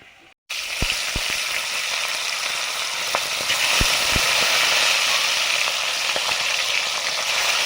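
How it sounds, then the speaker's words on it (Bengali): Fish fried in oil while the cooking continues for a curry with cauliflower and kohlrabi, a close, steady sizzle after a brief quiet moment, dotted with sharp crackles and pops. "এবারে মাছগুলো ভাজছি।"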